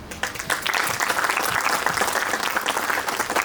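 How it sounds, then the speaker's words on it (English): A school audience at Mayoor School Jaipur gives steady, fairly loud applause, a dense continuous patter of many hands that holds evenly throughout with no clear speech over it. "In sync, but everybody please clap"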